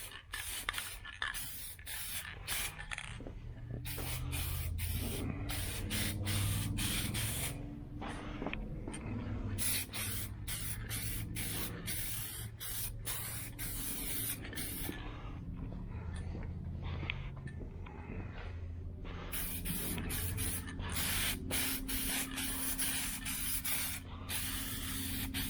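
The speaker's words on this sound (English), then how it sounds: "It's not spraying real good. There's not much left in this can, but" A nearly empty aerosol can of Hugger Orange spray paint hisses in repeated short, sputtering bursts with brief gaps, close by, while painting parts of a 1972 Chevy Nova.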